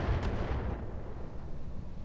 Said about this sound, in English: That was core explosion,